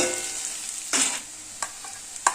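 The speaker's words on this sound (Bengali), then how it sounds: "গ্যাসের ফ্লেমটা হাইতে রেখে দুই মিনিট পেঁয়াজটা ভেজে নেব" Onion and potato frying in a pan over a high gas flame, a steady loud sizzle with a few short bursts of stirring scrapes and spatter, no voices.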